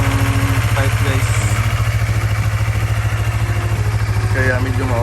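A Yamaha MT-03 motorcycle with 690 km on it idles after a cold start following a week of sitting, its engine throbbing loud and steady up close while a voice talks over it.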